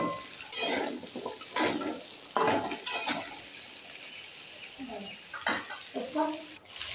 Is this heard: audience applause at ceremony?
no